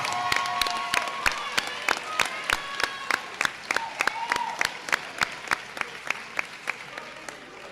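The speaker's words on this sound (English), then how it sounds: "please stand up and let's give them a round of applause" At an early college graduation ceremony, the audience applauds school staff. Sharp, evenly spaced claps ring out in a steady rhythm, as if from only a few hands, with faint voices murmuring underneath.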